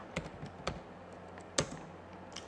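A few sparse clicks from a computer keyboard, with quiet, separate key taps at an irregular pace and one slightly louder press, close by over a faint background hum.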